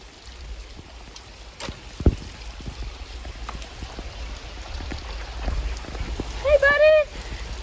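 Steady rain falls outdoors at a petting zoo, a continuous wet hiss throughout with scattered drips and taps, and a brief rising chirp-like call near the end.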